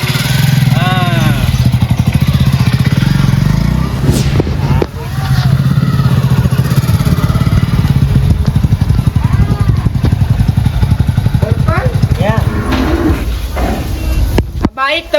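A motorcycle engine runs steadily near the listener, a low rumbling drone that continues under loud, frequent talking, with a brief break and a few clattering knocks.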